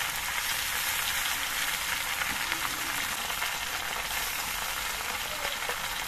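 Ginger juice hits frying spices for shukto and sets off a dense, even hiss of sizzling oil that holds steady throughout, with no talking.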